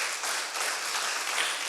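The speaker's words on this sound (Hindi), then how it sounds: "क्यों ना जोर से ताली बजाएं।" Church congregation at a Sunday Hindi service applauding, a steady dense wash of clapping held at even loudness throughout with no voices on top.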